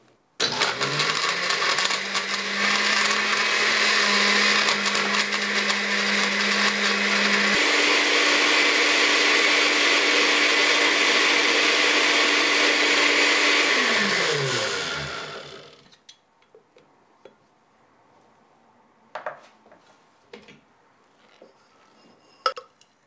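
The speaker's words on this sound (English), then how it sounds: "Then all you have to do is blend that really well until it's nice and smooth." A countertop blender whirs loudly and continuously for about fifteen seconds, shifting pitch midway as a Purim cocktail with frangelica turns smooth, then shuts off and winds down, followed by a few faint clinks.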